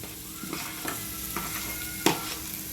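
Boiled, peeled, finely chopped potatoes fry on low flame in a pan for potato palya. A spoon scrapes in several distinct stirring strokes over a faint, steady sizzle, with no talk.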